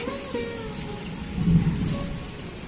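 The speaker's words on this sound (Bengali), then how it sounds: "বাপরে প্রচন্ড জোরে মেঘ ডাকছে" A low rumble of thunder rolls in and swells briefly, with steady rain hissing in the background.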